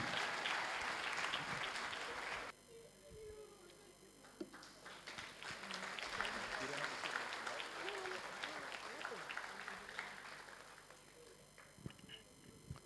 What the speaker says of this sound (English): A round of applause for Fatu Juka Dabo, ladies and gentlemen.